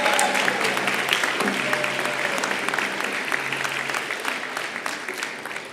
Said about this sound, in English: give one more round of applause to the people behind the scenes who set this up